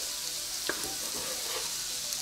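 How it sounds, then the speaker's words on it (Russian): Finely chopped onion frying in a pan for a meat filling, giving a steady, close, dense sizzle with a few faint stirring touches and no talking. "Сначала прожариваем мелко нарезанный лучок."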